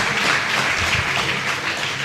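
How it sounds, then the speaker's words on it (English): An audience applauds at a book launch, a dense, loud burst of clapping that stays steady and close throughout the short stretch, with no talk over it. "A round of applause for him while he comes."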